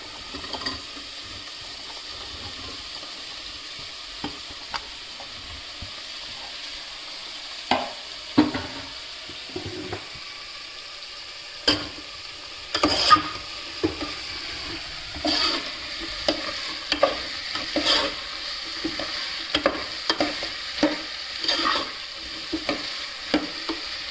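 Chopped vegetables for a curry fry in a pan and are stirred. Steady close sizzle runs throughout, broken by repeated scraping stir strokes that grow busier toward the end, with no talking.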